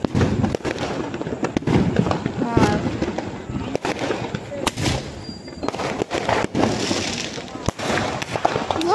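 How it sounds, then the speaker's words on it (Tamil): Diwali firecrackers bursting at a family celebration, a dense run of sharp cracks and pops near and far, some loud close blasts among smaller bangs, with people talking underneath. "இவ்வளோ பட்டாசு நாங்கள் வெடிச்சிருக்கோம்"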